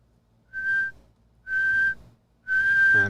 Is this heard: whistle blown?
yes